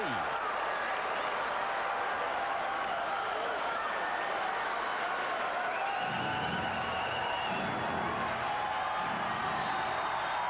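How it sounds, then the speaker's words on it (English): Stadium crowd at a 1997 Dodgers–Rangers baseball game rising and cheering for the Texas Rangers, a steady roar of voices and scattered clapping under continuous play-by-play commentary. "Now what's left of this crowd on their feet and cheering the Rangers"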